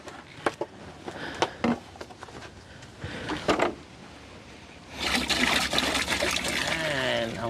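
Water trickles and splashes during water fetching, with a few sharp knocks early on, then a steadier, louder stream of pouring water in the second half.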